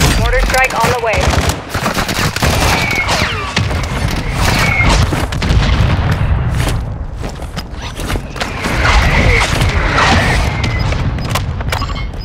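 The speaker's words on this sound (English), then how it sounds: "Mortar strike on the way." Mortar strike explosions in Call of Duty Warzone 2 gameplay, a loud rapid barrage of booming blasts mixed with gunfire rattling continuously.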